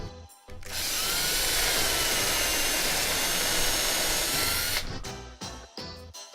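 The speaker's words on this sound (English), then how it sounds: "we're just going to make a hinge by drilling an oversized hole into the door" A power drill bores an oversized hole through a wooden door panel, one loud continuous whine lasting several seconds before winding down, with no talk.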